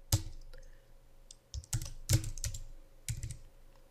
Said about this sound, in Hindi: एंटर प्रेस किया, टैब प्रेस किया